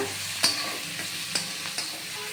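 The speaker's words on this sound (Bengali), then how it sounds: "পেঁয়াজ টমাটো এগুলো দিয়ে ভেজে নেব" Close sizzling of onion and tomato frying in a pan, with three or four sharp clinks of a utensil stirring against the metal.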